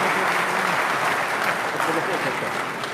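Church congregation clapping hands together in a dense, continuous wash of applause, loud and close, with voices mixed in beneath the clapping throughout.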